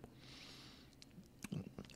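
Close, quiet crunching of a bite into a South American chocolate wafer bar, a few crisp snaps and chews clustered toward the end after a soft hiss.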